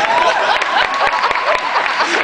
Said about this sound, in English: Come on, applaud, please.